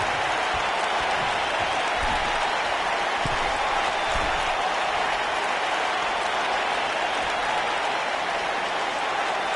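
A sold-out arena crowd in a wrestling video game cheers and claps as a dense, steady wash of noise throughout, with a few low thuds early on.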